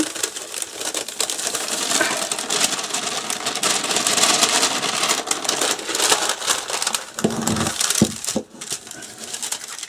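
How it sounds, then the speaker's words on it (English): Dry paper confetti hearts tipped back into a bowl make a dense, continuous papery rustle and patter, close and fairly loud, with a few heavier knocks near the end. "I'm just going to tip my confetti back into the bowl"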